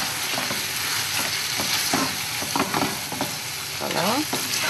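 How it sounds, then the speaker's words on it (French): Tomato paste being stirred into a pot of fish court-bouillon: a steady sizzle with irregular scraping strokes of the spoon, close and fairly loud throughout. "On remue."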